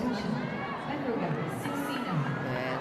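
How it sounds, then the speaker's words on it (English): Volleyball arena crowd at a Philippine PVL Reinforced match cheering a substitute player entering for the first time, a steady roar of many voices with shouts rising and falling, loud and continuous throughout. "The crowd giving her some love."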